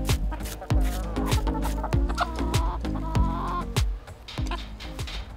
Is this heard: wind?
no